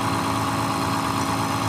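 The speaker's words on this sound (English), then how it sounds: "the machine is running and it is turning the distributor" A distributor test machine runs steadily, spinning an ignition distributor on points, giving an even, continuous mechanical hum and whir with no change in pitch or any talk.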